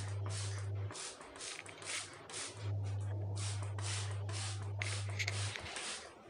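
A trigger sprayer mists concentrated cleaning chemical over bathroom floor tiles and into the corners in about ten quick, evenly spaced hissing bursts, close up, over a steady low hum.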